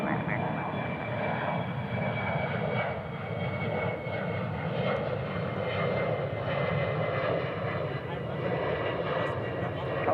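An American Airlines airliner lands on runway 36 left at DFW International Airport, its engines a steady, fairly loud roar across ten seconds, with voice-like radio chatter mixed underneath.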